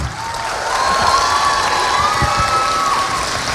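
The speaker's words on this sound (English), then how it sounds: "please keep the applause going" A theatre audience at a live Beauty and the Beast event applauds and cheers, loud continuous clapping mixed with whoops and high shouted cheers throughout.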